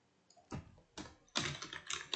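Close, fairly quiet keystrokes on a computer keyboard come in short irregular bursts with brief pauses between them, and no voice is heard over the clicking.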